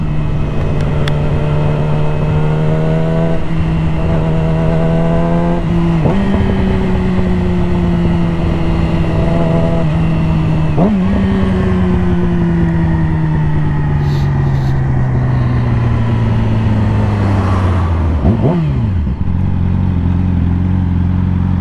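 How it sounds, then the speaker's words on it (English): Engine of a motorcycle fitted with frame sliders, heard while riding on the road: a loud, steady drone whose pitch climbs and drops through repeated gear shifts, close and continuous over wind noise, with no speech. "feels so good to be riding again."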